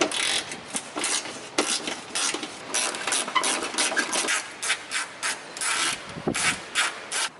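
A hand ratchet clicks in quick, uneven bursts while loosening 8mm bolts from the bumper of a BMW X5M, the pawl chatter close and crisp with brief pauses between strokes.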